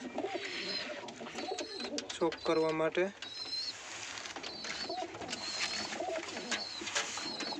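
Pigeons coo softly amid a busy background of chirps and rustling, while a person speaks briefly partway through.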